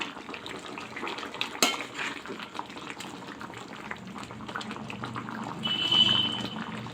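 Chicken curry with fenugreek leaves being stirred in a pot: a close, continuous bubbling simmer mixed with wet scraping and occasional metallic clinks of the spoon against the pot.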